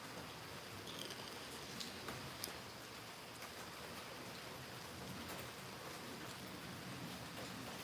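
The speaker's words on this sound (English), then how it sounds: "it's raining pretty good out here, and it's a nice sound" Steady rain falls outdoors, a dense, even hiss of drops spattering on surfaces with a few louder nearby patters, continuous for the whole stretch with no voices.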